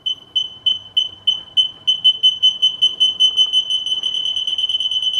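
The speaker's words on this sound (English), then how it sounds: "as I get closer, it's going to get, the beeps are going to be faster" Rostra 250-5110 Pro backup sensor kit giving a steady series of sharp, high electronic beeps that start spaced apart and speed up until they run almost continuously, loud and alone.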